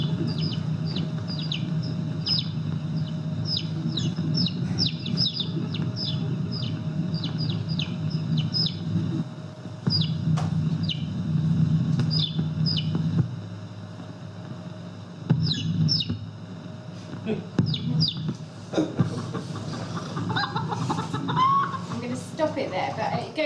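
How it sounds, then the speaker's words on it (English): Hundreds of day-old chicks held in boxes of 25, chirping shrilly in quick repeated bursts over a steady low rumble, with a brief louder stir of sound near the end. "are brought hundreds of day-old chicks in boxes of 25"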